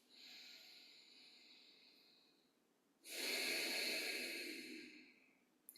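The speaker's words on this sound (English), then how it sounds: "Focusing the breath in the sinuses." Nasal breathing during a yoga recovery session, two slow airy breaths through the sinuses: a softer hissing draw, a pause, then a stronger, louder rush of air fading out.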